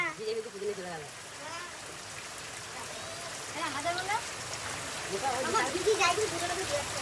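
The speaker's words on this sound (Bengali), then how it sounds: "মেলাদি খেয়ে হাত ধুচ্ছে বৃষ্টির জলে।" Steady rain hisses and patters in the background while people talk and exclaim over it at close range.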